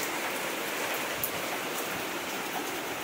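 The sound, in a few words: heavy rain pouring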